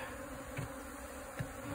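Bees buzz steadily around a hive box set in a tree trunk, a dense, even hum with no voices and a couple of soft knocks.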